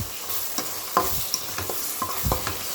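Chicken curry masala with chili powder and salt is stirred in a pan, a series of scraping, thudding stirs about every half second over a low sizzle, close and with no voices.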